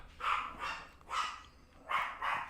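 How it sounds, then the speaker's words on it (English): A dog barks indoors in a few separate bursts, two-note woofs spaced out with short pauses, moderately distant and fairly quiet. "I apologize if you hear the dog barking"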